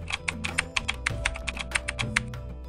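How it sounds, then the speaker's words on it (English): Typing on a computer keyboard, a quick run of crisp, evenly spaced key clicks up close, steady and uninterrupted with no voices over it. "Then I'm gonna type in the instructions for these balls."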